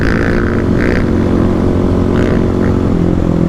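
Kawasaki KLX300 and KLX351 dual-sport motorcycles racing side by side on a road: a loud, steady engine roar with rising revs and gear changes, close and continuous, with wind noise underneath.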